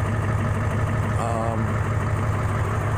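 A 2000 Ford F-350 with a 7.3 diesel engine idles steadily and loudly up close, with a continuous low rumbling clatter and a voice speaking briefly over it.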